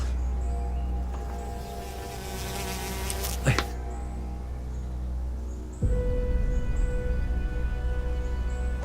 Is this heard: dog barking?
no